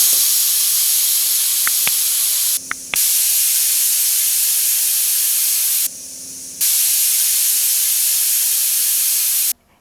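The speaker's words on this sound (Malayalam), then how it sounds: "ഇതിപ്പോൾ ഒരു 3 വിസിൽ വന്നിട്ടുണ്ട്." Pressure cooker cooking rice releases long, loud steam whistles, a continuous hissing shriek broken by two brief pauses, close up with no voices.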